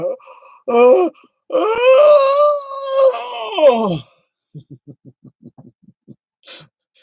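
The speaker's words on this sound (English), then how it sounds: "just sneak in a yawn" A man gives a long, drawn-out yawn with a rising-then-falling groaning voice, preceded by a short vocal sound and followed by a quick series of soft clicks or taps and a brief breathy exhale.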